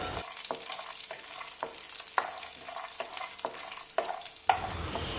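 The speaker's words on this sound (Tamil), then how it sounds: "இதில் கொஞ்சமாக வேர்க்கடலையை போட்டு நல்லா வறுத்து விட்டுறலாம்." Peanuts roasting in a pan with mustard seeds, curry leaves and green chilli, a steady close sizzle broken by regular scraping stirs and the occasional sharp pop.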